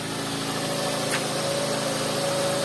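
A cold 2009 Mazda 6 2.0 gas/petrol engine idles at slightly raised revs, steady with a constant low hum and faint whine, running smoothly and evenly throughout with no talking.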